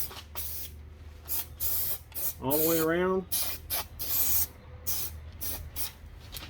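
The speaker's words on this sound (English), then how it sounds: "And I'm going to spray the foam with a good coat." 3M headliner spray adhesive hisses from a can onto foam during a sunroof headliner install on a 1993 Cobra. Steady, close spray bursts repeat in short pulses while someone speaks briefly over them.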